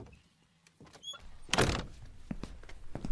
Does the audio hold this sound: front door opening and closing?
yes